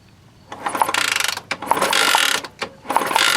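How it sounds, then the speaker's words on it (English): Rapid ratchet clicking as a bolt and nut are screwed back down on a 1964 Honda S90 motorcycle, three close bursts of fast pawl ticks with brief pauses between them, no voices. "I got that bolt and nut backed off. I'm gonna actually screw it back down"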